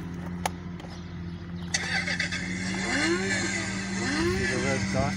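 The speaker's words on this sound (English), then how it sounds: "And then turn on your car." An electric ride-on toy car switches on with a sudden bright burst of a simulated engine start that settles into a steady hum, while a person talks over it.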